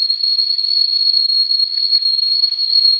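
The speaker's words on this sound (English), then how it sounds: "Because the steam is pushing all the wind through the little whistle." A whistling kettle shrieks with a steady, loud, piercing tone as steam forces through its little whistle, holding one unbroken pitch with a faint hiss of steam underneath throughout.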